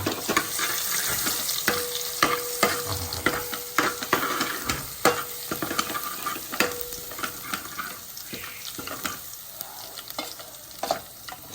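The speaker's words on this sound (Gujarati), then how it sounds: "ચલો ભાઈ આ તેલ ગરમ થઈ ગયું છે સહેજ હિંગ" Asafoetida sizzles in hot oil in a home kitchen, a steady crackling fry with repeated scraping clicks of a spoon stirring the pan, close and moderately loud, with no talking.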